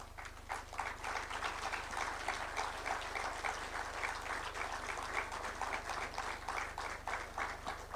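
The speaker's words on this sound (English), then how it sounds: "so that you can give them an applause and acknowledgement" Quiet, steady clapping from an audience honouring members of a diplomatic corps at a formal occasion, heard at a distance over a low constant hum, with no speech.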